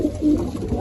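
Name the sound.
teddy pigeon cooing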